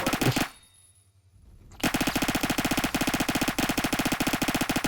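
Automatic gunfire in the Roblox shooter Phantom Forces, a short loud burst, a brief lull, then a long sustained rapid stream of evenly spaced shots, loud and close with no voice.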